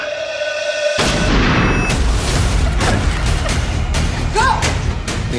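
A film trailer gunshot booms loudly, followed by several more sharp cracks and impacts layered with a dramatic score, all dense and punchy.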